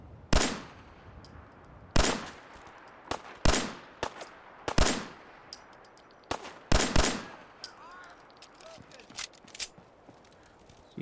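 Laser weapons fire in the video game Fallout 4: about a dozen sharp, loud zaps ring out at irregular intervals, each with a short tail, over a quiet game background.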